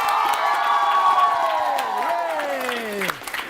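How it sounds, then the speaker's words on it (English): An audience at a live-broadcast personal-development talk breaks into sustained applause and cheering, with a loud whoop sliding down in pitch over the clapping before the noise drops away near the end. "Again, round of applause for Badiju Lī."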